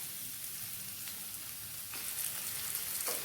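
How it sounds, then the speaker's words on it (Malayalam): Diced potatoes sauté in a pan with a soft, steady sizzle and faint crackles for a potato-egg mezhukkupuratti stir-fry, quiet and close, with no talking. "ഉരുളക്കിഴങ്ങ് നല്ലതുപോലെ ഒന്ന് വഴറ്റിയെടുത്തിട്ടുണ്ട്"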